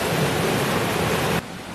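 Thunderous, continuous roar of a swollen waterfall pouring after torrential rain in Dang district, Gujarat, loud and unbroken before dropping slightly at the end.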